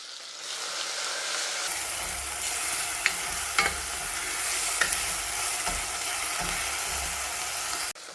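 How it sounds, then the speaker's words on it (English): Spice paste with bruised lemongrass frying in hot oil for chicken kapitan, a loud, steady sizzle that starts abruptly, with a few sharp pops and scraping stirs, close up and without speech. "we're going to start off with frying our spice paste"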